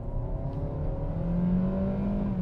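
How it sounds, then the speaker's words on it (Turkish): A Kia Sportage with an automatic transmission is pushed to full throttle while driving, its engine drone rising steadily in pitch as it revs, heard from inside the cabin and continuous throughout, with no speech. "Şöyle duralım ve bir dip gaz yapalım."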